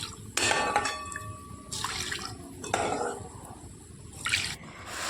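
Oil drips and trickles from fried mihidana sitting in a strainer, heard as soft splashing bursts that swell and fade every second or so over a steady background hiss.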